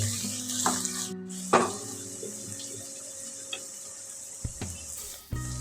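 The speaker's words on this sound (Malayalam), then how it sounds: "സവാള ഇട്ട് കൊടുത്ത് നന്നായിട്ട് വഴറ്റിയെടുക്കാം." Onion sautéing in a pan gives a soft, even sizzle with occasional light taps and scrapes of a spoon, one sharper knock near the end.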